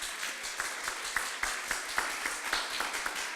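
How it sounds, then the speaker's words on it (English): Audience at a faculty and staff award luncheon and retirement celebration clapping in a room, a fairly light, sparse applause with distinct individual claps, moderately close, no talking. "give them all a round of applause"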